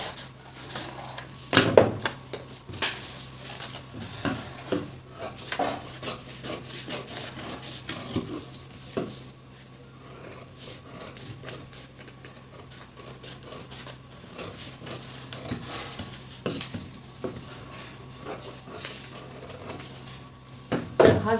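Scissors cut through blouse fabric during tailoring, with a continuous soft rubbing and snipping texture running steadily throughout, fairly close, with no talking.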